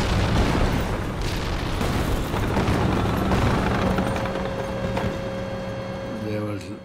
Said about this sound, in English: There was mortars and big guns flying all over around them.